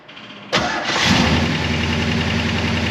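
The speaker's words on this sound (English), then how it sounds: "Fired right up, idle's good." A 1966 Oldsmobile 442 fitted with an Edelbrock carburetor cranks briefly, fires with a loud burst and then settles into a steady, rumbling idle close by.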